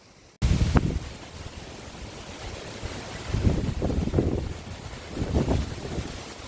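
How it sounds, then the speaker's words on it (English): Gusty wind outdoors on a bike tour through northern Spain buffets the microphone with loud, low rumbling that swells and eases in repeated surges. "There's been moments of flat calm and then huge gusts coming through"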